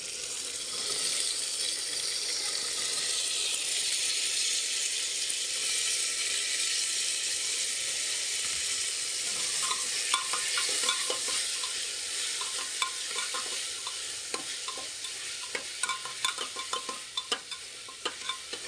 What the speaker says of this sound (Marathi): मस्तपैकी फ्राय करून घ्यायचं